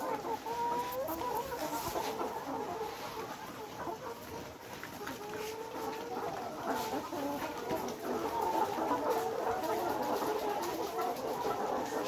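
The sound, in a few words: laying hens clucking in poultry shed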